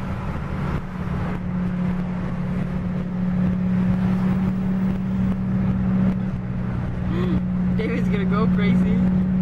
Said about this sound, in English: That car's so fast, it's unbelievable.